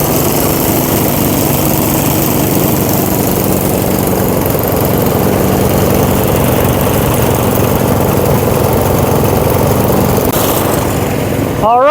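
Two snowblower engines, a 1966 Toro and a 2012 Troy-Bilt, run together nearby at a steady, loud warm-up drone with no letup, and faint talk can be heard underneath.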